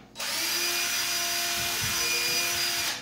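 A cordless drill whirs steadily at high speed for about three seconds, close and loud, starting abruptly and winding down at the end.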